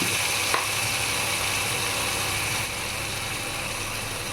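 Potatoes fry in a pan before poppy seed paste is added, giving a dense, steady sizzle that fills the whole clip close by, with a faint click early on and no voices.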